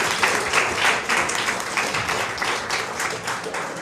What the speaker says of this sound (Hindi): तालियां बजाओ पहले से